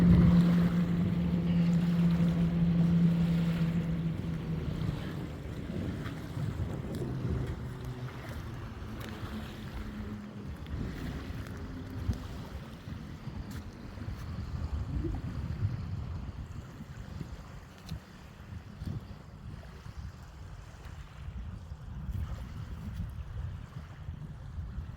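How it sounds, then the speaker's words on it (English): Boats on a river, a low distant engine rumble with a tonal hum early on, fading into soft wind and water noise, fairly quiet and continuous, with no talking. "We're right on the river now again, so you can hear the boats."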